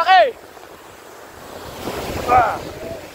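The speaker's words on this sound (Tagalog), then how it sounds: "O kita nyo kung gaano kalaki yung alon na yan" Large sea waves surging and crashing around a boat running a relief mission off Brooke's Point, Palawan, with heavy wind buffeting close by and brief voices shouting over the surf.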